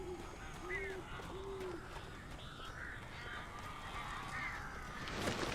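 Birds caw and call in Alan Wake, a few short crow-like cries rising from a low background rumble, fairly faint and spaced across the moment.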